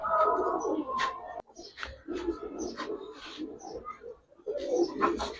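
Giribaz and high flyer pigeons coo in a cluster of soft, throaty, repeated calls, close and moderately loud, with short pauses between bursts.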